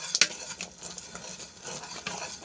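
A utensil stirs a thick ube rice cake mixture in a bowl with soft, steady scraping and swishing, broken by a few sharp clinks against the rim near the start and end.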